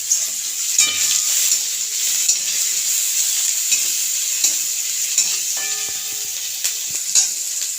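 Onions and curry leaves fry in a pan with a loud, close, constant hiss, broken by intermittent clatter and scrapes of a spoon stirring against the metal. No one speaks.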